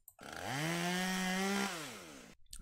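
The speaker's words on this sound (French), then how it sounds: "Ensuite, la tronçonneuse" A chainsaw engine in the video game Keep Talking and Nobody Explodes revs up, holds a steady buzzing whine for over a second, then winds down, with a synthetic, game-like tone.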